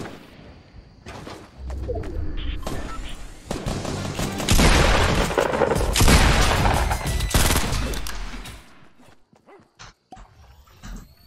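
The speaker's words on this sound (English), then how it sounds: "Oh, where are they shooting from?" Bursts of rapid gunfire in the Fortnite video game, loud and dense at first, then trailing into scattered, sharper single shots, with a voice talking over parts of it.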